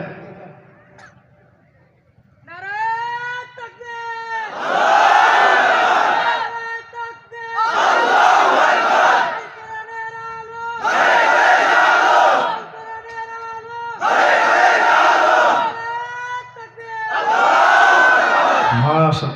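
A large crowd at an Islamic religious gathering in Mallikbari, Bhaluka, Mymensingh chants a slogan in unison, five loud call-and-response bursts in a steady rhythm, each answering a single voice leading the chant.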